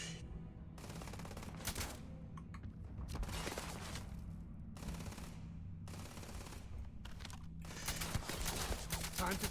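Gunfire in Starfield aimed at an enemy below: faint, repeated bursts of sharp automatic shots at irregular intervals over a low steady hum, with clicking mechanical sounds between volleys.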